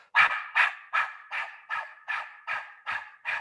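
A person's voice imitates a dog panting, with eight forceful, evenly spaced breathy exhales through the mouth, close and clear with no other sound.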